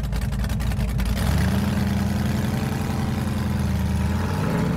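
A cammed 4.8L LS V8 in a burnout truck with a Holley Terminator X runs loud and close, with a choppy idle rumble that shifts into a steady low drone as the truck pulls away, and no talk is heard.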